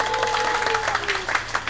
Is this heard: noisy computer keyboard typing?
no